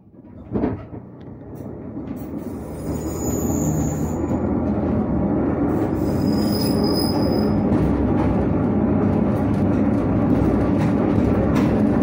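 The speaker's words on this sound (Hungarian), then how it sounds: "és megjött az ellenvonat." An oncoming train arrives on the track along the Tisza line, starting quieter and then swelling into a loud, sustained rumble of wheels with high metallic squeals above it.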